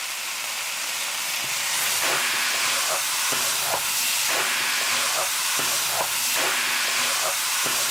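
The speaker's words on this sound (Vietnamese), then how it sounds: "Mình sẽ xào cho cái phần tôm này thấm gia vị và săn lại nha." Peeled shrimp stir-frying in a hot pan over high heat gives a steady, loud sizzling hiss, broken by light clatters as the shrimp are gently turned and stirred.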